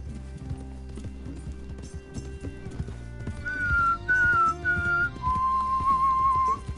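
A person whistles a few clear, sustained notes in short phrases over a backdrop of horse hooves clip-clopping and game ambience in Red Dead Redemption 2, the whistle strong and close in the second half.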